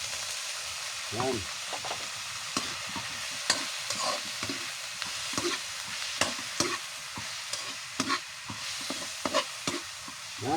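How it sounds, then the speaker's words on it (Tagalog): Chicken sautéing in a pan in a rural Filipino kitchen, a steady sizzle broken by repeated scraping clinks of a spatula as it is stirred, close by, with a brief spoken word. "Tapos lagay natin yung chicken. Para igisa natin yung chicken."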